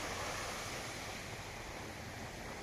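Ocean surf washing onto a Sri Lanka sand shore, a steady, broad, even wash of waves with no distinct breaks, soft and continuous throughout.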